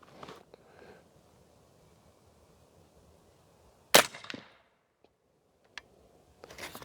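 A single sharp crack from a DNT Hydra air rifle fired at a target stands out in a quiet setting, followed by faint clicks and handling noise.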